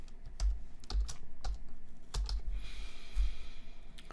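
A computer keyboard types out a file name, sharp distinct key clicks in an uneven run of about eight strokes, close and clear with no talk.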